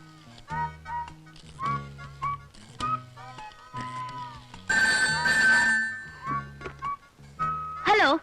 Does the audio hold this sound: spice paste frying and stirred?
no